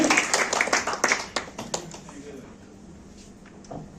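Audience applause at a Vestige company recognition event, a burst of clapping from many hands up front that fades after a couple of seconds into scattered claps and room noise.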